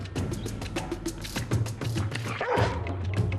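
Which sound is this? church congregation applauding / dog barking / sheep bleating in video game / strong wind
dog barking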